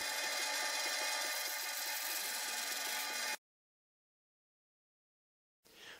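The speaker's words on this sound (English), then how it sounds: "take it back to the bandsaw to cut" Bandsaw cutting a wooden stripe piece for an F-16 military shadow box, a loud steady buzzing whine for about three seconds, then silence before the blade noise briefly returns.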